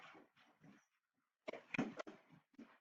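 A dog whimpers and vocalises faintly in a quiet indoor room, in several short bursts with a louder cluster near the end.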